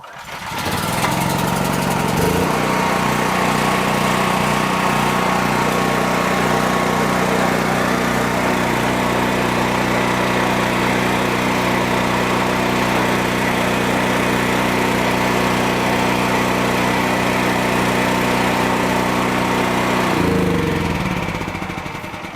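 A PowerHorse 7000 generator engine with the choke on starts after a short pull and settles into a loud, steady running drone, then winds down near the end.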